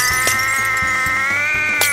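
A synthesized vehicle engine sound for an indie milkman video game, with a faulty pitch-shifted idle that whines in a wavering, bleating tone like a sick cat, with a couple of faint clicks. It plays steadily and alone.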